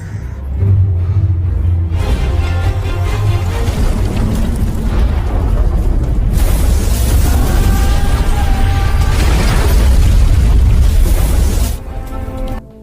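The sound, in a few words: bombs exploding in a house in a film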